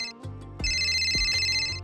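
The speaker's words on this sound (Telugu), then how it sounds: "ఇదేంటి ఫోన్ రింగ్ అవుతుంది?" A mobile phone ringtone plays alone at moderate loudness, a bright repeating electronic melody with rhythmic low pulses beneath it, ringing steadily for about two seconds.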